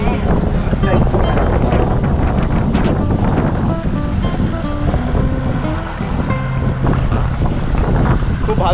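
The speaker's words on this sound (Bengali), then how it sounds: "কেমন লাগছে হাওয়াটা যা দিচ্ছে না?" Strong wind buffets a boat out on Chilika Lake, a loud, continuous roar mixed with water wash and engine rumble, while people talk over it.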